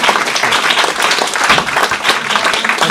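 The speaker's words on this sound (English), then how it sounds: "Another round of applause for our readers." A room of listeners at a story reading claps for the readers, a dense, steady burst of hand-claps that holds evenly throughout, close and fairly loud with no talking over it.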